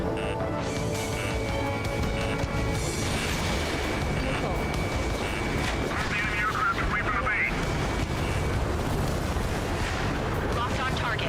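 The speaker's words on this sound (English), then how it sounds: "Mage 2, missile!" Missile launches and explosions in the jet combat game Ace Combat 7, a continuous roar of booms and rumbling blasts beneath jet noise, with radio chatter voices over the action.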